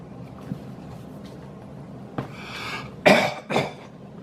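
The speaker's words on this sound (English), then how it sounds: "in the mornings, I gotta clear my throat." A man clears his throat a few times, with short rough bursts toward the end after a quiet, breathy start in an indoor room.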